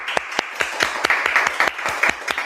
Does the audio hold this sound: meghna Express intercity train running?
no